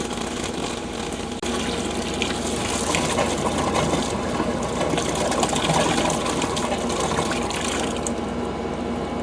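Water from a pool's solar heater draining out in a steady, continuous rush and splash, fairly close and loud, running without a break for the whole stretch with no talking over it.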